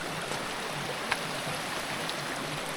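A mountain river running over slippery rocks at a hiking crossing, a steady soft rush and babble of water, even and continuous, moderately close with no voices.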